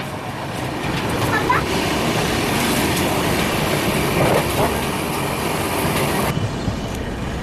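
Nanded–Pune Express running slowly on the tracks past track-changing work during the rainy season, a steady rolling rumble with faint wheel clatter heard from inside the coach, continuous throughout.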